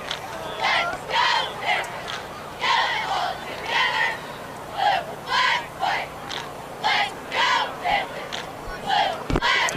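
Cheerleaders chanting in rhythmic group bursts at a 3A division high school football playoff game, repeated shouted phrases with short pauses, carried over a crowd in a stadium without music.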